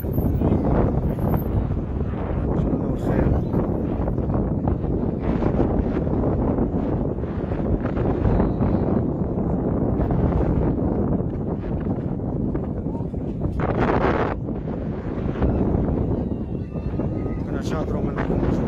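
Wind gusts buffet an outdoor microphone at a training session in Fakih Ben Salah, making a loud continuous roar with rumbling surges and brief flaps.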